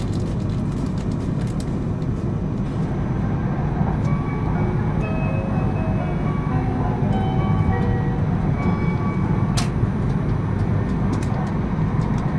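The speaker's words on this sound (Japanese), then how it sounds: "乗り換えホームと新幹線ホーム両側の扉が閉まると、列車は新潟を発車。" A Shinkansen train rumbles steadily as it departs Niigata station, a continuous low mechanical roar with faint higher whines and occasional clicks, heard from close by without voices.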